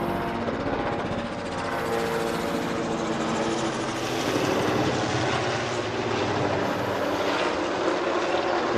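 A Qantas airliner, an A380 departing Honolulu bound for Sydney, roars steadily and loudly overhead, its broad jet engine rumble holding strong for the whole stretch with no voices.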